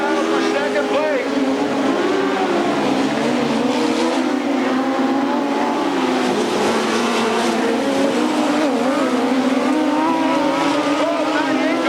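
USAC midget race cars battling for position at a Ventura, California track, engines roaring continuously and loud throughout, with an announcer talking over the racing.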